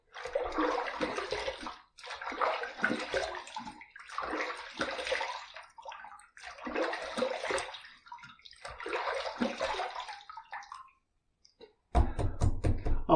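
Water runs from a tap in several bursts while someone rinses after a shave with Barbon shave cream, with short pauses between splashes and a sharper, louder gush at the end.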